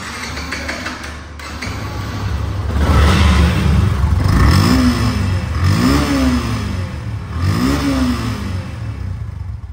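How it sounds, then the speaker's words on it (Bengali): A 2023 Yamaha FZ motorcycle engine with about 2,700 km on it revs through its exhaust silencer, rising and falling in three or four distinct throttle blips over a steady, loud idle. "সাইলেন্সার থেকে কত সুন্দর স্মুথ সাউন্ড এবং রানিং অবস্থায় আছে দেখুন।"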